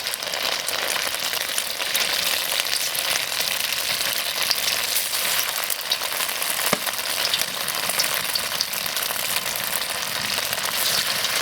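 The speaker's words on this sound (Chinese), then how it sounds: "下锅煎。" Egg-coated tofu fries in an oiled pan with a loud, even sizzle that holds steady throughout, close up, broken only by a single faint tap.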